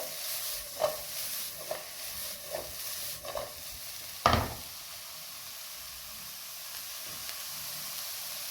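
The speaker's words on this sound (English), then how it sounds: "Stir your vegetables without touching them too much with a wooden spoon, and try just to move your pan like this" Vegetables for fried rice sizzle steadily in a hot pan while a wooden spoon stirs them, giving several soft knocks and one sharper clack against the pan. The frying hiss continues on its own with no talking.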